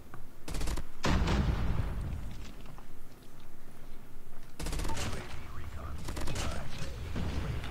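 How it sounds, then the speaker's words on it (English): Grenade blast and gunfire in a shooter video game, with loud bursts of rapid shots and heavy booms in clusters, separated by quieter stretches of mechanical game noise and faint footsteps. "Did I die to that nade?"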